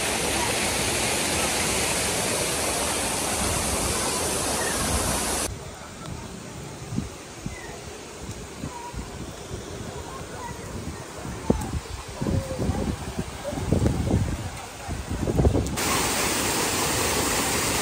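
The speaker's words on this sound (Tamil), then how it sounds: "அருவியில குற்றால அருவியில ஓடிக்கொண்டிருக்கு தண்ணி" Water pouring at Courtallam waterfall, a loud continuous broadband roar that drops sharply for about ten seconds mid-clip to quieter rumbling and splashing before the full roar returns.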